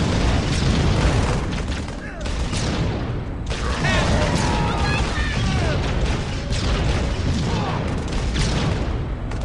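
Grenade blasts and combat in the Halo Wars video game, dense booming explosions and gunfire layered with game sounds and voices, loud and continuous.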